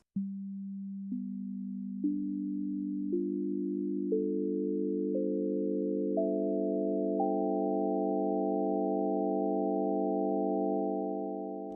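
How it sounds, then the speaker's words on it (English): Pure sine tones from a Doppler FM synthesizer stack one by one, a new higher note added about every second until eight voices sustain together as a clean, steady chord. "You can hear the sine wave that it has."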